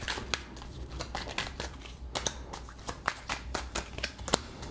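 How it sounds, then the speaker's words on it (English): Oracle cards shuffled and drawn by hand at close range, a dense crisp riffle of papery flicks and snaps running continuously without talk. "Let's get a couple more oracle cards out of here."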